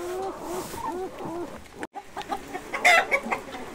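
Livorno chickens and a rooster cluck close by on a farm with grass and fields, a series of short, clipped clucks and calls in an irregular rhythm, with a sharper call toward the end.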